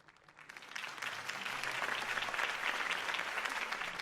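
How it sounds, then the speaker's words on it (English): Steady applause from a crowd, building quickly and holding at a loud, dense level throughout, with no voices standing out. "could have heard that applause"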